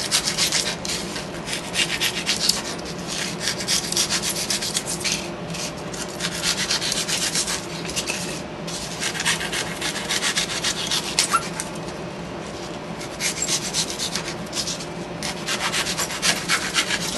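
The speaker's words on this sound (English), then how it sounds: "Actually, probably just start with a steak knife." A steak knife carves styrofoam for a model railroad scrap yard, giving a continuous close-up scratchy rubbing and rasping with uneven strokes throughout.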